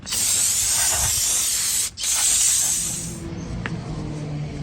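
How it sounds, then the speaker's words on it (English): Brake cleaner sprayed from an aerosol can onto a snow plow pump, a loud close hiss in two bursts with a brief break, then fading to quieter shuffling. "I'm gonna use this brake cleaner just to give us a cleanup, initial cleanup."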